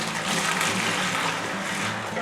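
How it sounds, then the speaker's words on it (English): Hot boiled parsnip juice pours steadily into a bucket, a continuous close, full liquid gush that runs without pause for the whole stretch. "we just need to pour it into the bucket again"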